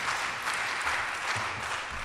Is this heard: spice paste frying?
no